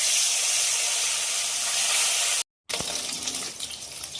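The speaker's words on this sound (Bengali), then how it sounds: "তেল গরম হয়ে গেছে, এবার ভাজার জন্য মাছগুলো ছেড়ে দেবো" Fish being fried in hot oil in a wok, a steady loud sizzling hiss that cuts out briefly midway and then resumes with crackling and spitting.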